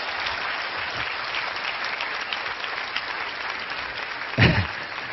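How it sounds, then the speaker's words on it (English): An audience at a T. Harv Eker negotiation seminar keeps up continuous applause, a dense crowd of clapping hands at even strength, with one louder thump near the end. "All right, give a round of applause."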